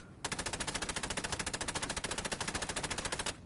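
Rapid enemy automatic gunfire in Assassin's Creed Chronicles: Russia, a loud, evenly spaced burst of shots that starts abruptly and continues for over three seconds, no speech.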